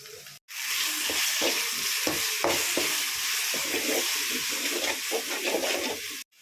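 Onions tossed into a hot pan for a gravy, frying with a steady sizzle while a utensil scrapes and stirs in irregular strokes, close and alone.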